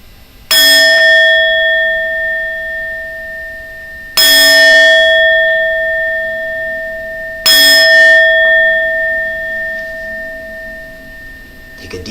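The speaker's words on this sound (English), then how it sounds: "I'll go ahead and ring the bell and we'll begin." A meditation bell at a memorial service is struck three times, evenly spaced, each ring loud and clear with a long shimmering sustain fading before the next strike, no voices.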